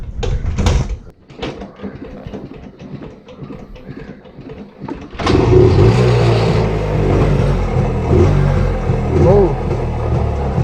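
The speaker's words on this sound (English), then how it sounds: "for starting this bike, you need to give her a couple of kicks so that the air fuel mixture get charged" A Rajdoot 175 two-stroke motorcycle, cold and under restoration, gets a few scuffing kick-start attempts, then its engine catches at about the midpoint and runs loud and steady, burbling close by for the rest of the clip.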